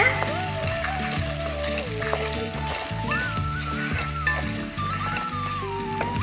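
Steady sizzling of spices and turmeric frying in a pan for a brinjal curry, with scraping and stirring sounds throughout, loud and close.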